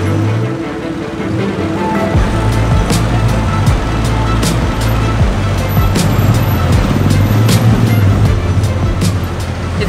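A tuk-tuk rides through busy Bangkok Chinatown streets at night, with a loud continuous engine rumble, road noise and surrounding traffic.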